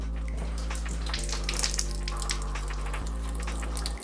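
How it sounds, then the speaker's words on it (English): Household water supply turned back on slowly after a ceiling leak repair, giving a steady rushing flow through the pipes over a low constant hum, with a couple of small thumps and no talking. "Right, water going back on. I'll bring it on just slow."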